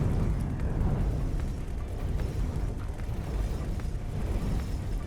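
Spaceship turrets fire in the space game X4: Tides of Avarice, a steady rumble of distant muffled booms and bursts rolling continuously with no talking.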